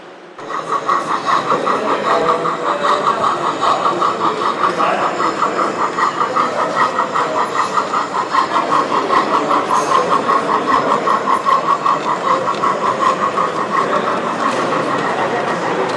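Gauge 1 model express train hauled by a Märklin class 01 steam locomotive runs past at a large model railway meet, a steady rhythmic rumble and clatter of wheels on track that stays loud and continuous throughout.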